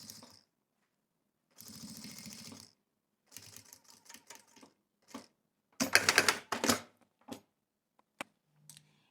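A sewing machine stitches tricoline cotton fabric for a zippered pouch in short separate bursts of rapid clatter, with quiet pauses between runs.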